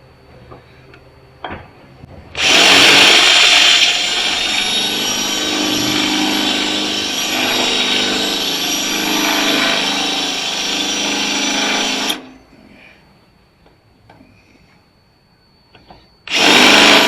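A power drill bores with a step bit into a flatbed trailer frame, running loud and steady for about ten seconds before stopping, followed by quiet clicks and then the drill starting up again at the end.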